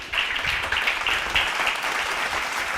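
A brief burst of audience clapping at a late-night Bible study gathering, fairly soft and even, a dense patter of hands lasting a few seconds with no clear talk over it.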